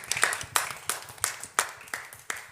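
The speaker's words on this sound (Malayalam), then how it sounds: "ഒരു ക്ലാപ്പ് കൊടുക്കുക എല്ലാവരും." Audience clapping at a Malayalam TV show episode, a small group clapping in a quick regular rhythm of distinct, fairly close claps, moderately loud with no voices over it.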